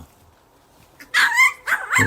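Jindo dogs bark sharply at close range, a loud yelping burst followed by a couple more high barks after a brief quiet stretch.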